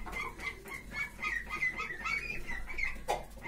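Egg-laying hens on a small farm cluck softly as they eat, giving a run of short repeated calls at moderate distance over low background noise, with one sharper squawk near the end.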